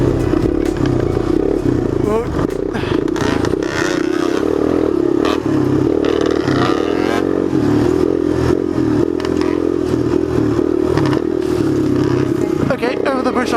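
Off-road motorcycle ridden flat out on sandy trail at a South African enduro event, the engine a loud continuous drone with wind buffeting and clatter, a rider talking over it.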